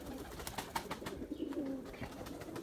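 A pigeon coos softly in a few low repeated calls, faint and fairly close, with light outdoor background noise and no talk.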